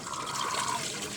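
Someone bathing in hot weather in the Philippines, with water pouring and splashing in a steady close wash that never breaks.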